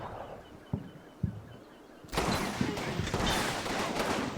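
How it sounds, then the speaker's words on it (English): A WWII-era infantry gun fires in the Combat Mission: Rome to Victory game, starting as a few isolated thumps and then breaking into a loud, sustained rattle of overlapping battle fire. "That infantry gun has a weird sound when firing."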